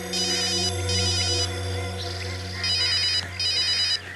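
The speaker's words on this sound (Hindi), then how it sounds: "वो दोनों मेरा फोन कॉल रिसीव क्यों नहीं कर रहे हैं।" A phone rings steadily and loudly with a repeating electronic ringtone pattern in short bursts, left unanswered over a low sustained hum.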